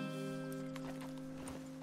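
Horse hooves clop rhythmically at speed in Red Dead Redemption 2 under a steady droning hum, with a galloping beat that stays fairly faint behind the background tone.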